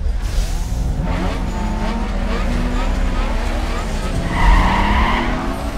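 A Nissan Skyline R34 in NFS Underground 2 roars steadily with tires squealing and skidding, the engine rising in pitch as it accelerates, while a voice talks over the game sound.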